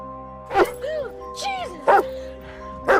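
A teenage gang's dog barks in a film scene, giving three sharp close barks spaced about a second apart with whining yips between them, while a voice talks over it.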